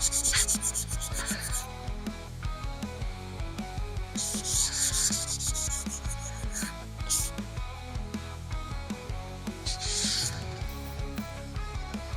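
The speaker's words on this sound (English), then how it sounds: "we've taken the sandpaper off the electric sander, just so that we can do it by hand" Rhythmic scraping of sandpaper rubbed by hand against the fiberglass hull of a 1992 Grady-White boat, in repeated strokes that swell and fade, close up with no talking.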